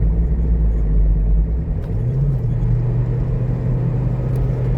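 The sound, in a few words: Ford Transit van engine while downshifting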